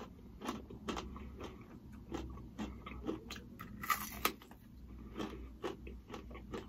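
Someone bites and chews crispy pan-fried börek up close. Several sharp crunches stand out over the steady chewing.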